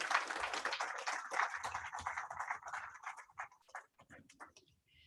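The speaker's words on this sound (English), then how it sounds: "Let's clap to that once more," Audience applause at a Safer Internet Day launch event, a dense patter of many hands clapping at moderate volume that thins out and fades over a few seconds.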